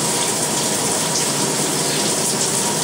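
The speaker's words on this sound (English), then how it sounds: "now it's time to go take a shower" Shower water running in a bathroom, a steady, loud, unbroken hiss of spraying water with no pauses or talk, close to the listener.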